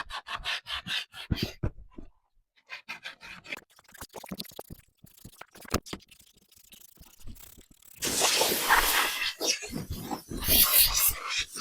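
A thrifted item with a plaster-like coating being sanded by hand, with uneven bursts of rough rubbing and scraping strokes, choppy at first, then a louder, denser stretch of steady sanding near the end.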